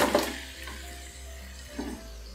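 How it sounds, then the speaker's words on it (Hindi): Chicken pieces frying in ginger garlic paste in a karahi over a medium flame give off a soft, steady sizzle, with brief louder bursts of stirring near the start and again toward the end. "चिकन ऐड करके चिकन को फ्राई करेंगे"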